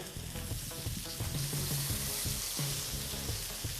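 Onion sizzles in hot oil in a frying pan, a dense, steady crackling hiss with occasional faint clinks and stirring sounds beneath it.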